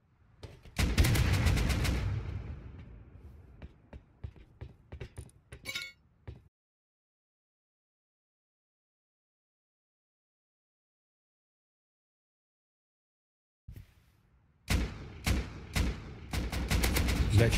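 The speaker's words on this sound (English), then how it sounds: "Is that you shooting?" Rapid bursts of gunfire in the video game Rust, loud shots and ringing clinks in quick succession, then a long silence before another burst of shots resumes.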